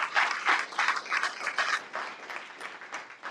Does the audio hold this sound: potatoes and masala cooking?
no